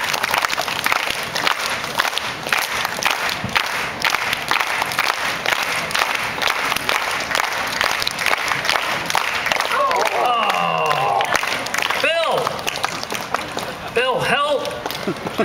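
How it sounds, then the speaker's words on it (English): An outdoor crowd at a Boston street performance claps together in a steady, dense rhythm for a long stretch, with a few shouts and whoops rising near the end. "let's have a nice, loud, rhythmic clap"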